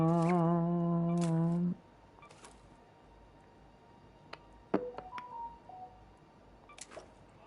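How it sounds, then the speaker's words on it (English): A phone sounds off during a game of Arc Raiders, opening with a loud, sustained buzzing tone that cuts out after about two seconds, followed by scattered short beeps and clicks from game and device. "my phone is super annoying."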